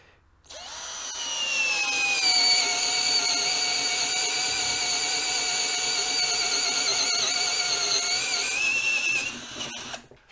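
A cheap 12V cordless drill runs in forward with a steady high-pitched motor whine that spins up, holds for about nine seconds and then winds down, close and alone.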